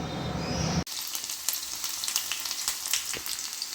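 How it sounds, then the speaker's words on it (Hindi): Garlic and whole spices, including jakhiya and faran, hit hot oil for a tadka over a pumpkin dish. A sudden loud crackling sizzle bursts in and keeps spitting and popping steadily, close and without talk. "चलो इस पर छौंका लगाते हैं हम।"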